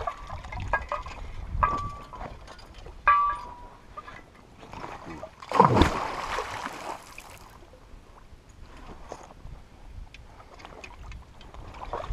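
A beaver trap with about 50 pounds of weight attached is thrown into deep water, making one heavy splash midway, with quieter water sloshing and handling noises around it.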